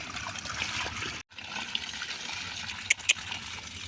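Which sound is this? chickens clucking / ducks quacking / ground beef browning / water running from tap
water running from tap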